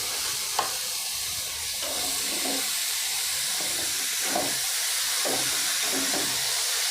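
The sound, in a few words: cabbage added to a hot pan, steaming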